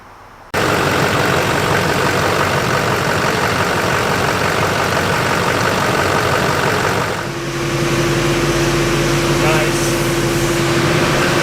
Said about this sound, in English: He's just running it through the gears to get all that transmission fluid circulating and get all the air pockets that may be in there in the torque converter out